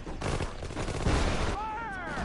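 Close, dense video game gunfire from a battlefield mission, a quick run of overlapping shots and bursts with a heavier thump near the middle, mixed with game voices shouting.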